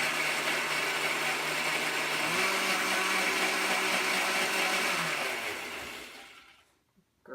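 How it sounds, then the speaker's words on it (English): A countertop blender whirs steadily as it purees garlic cloves with water, a loud, continuous motor drone that shifts pitch slightly midway, then winds down and stops near the end. "I want to blend up that garlic really well to make sure it gets blended into the sweet potato"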